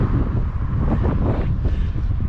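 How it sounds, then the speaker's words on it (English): Strong, steady wind buffets the microphone on a windy seaside bike ride near Bude, a continuous low roar with gusty fluctuations and no talking. "a bit too windy today"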